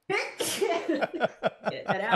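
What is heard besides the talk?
sneeze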